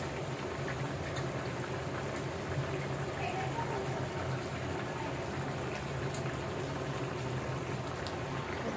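A pot of small fish curry simmering on the stove, with a steady close bubbling and hissing that continues evenly throughout without any pause.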